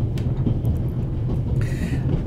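A train ride in the video game The Raven Remastered: a continuous low rumble and rolling clatter of railway carriages, steady and fairly loud, with faint metallic squeals above it and no talk.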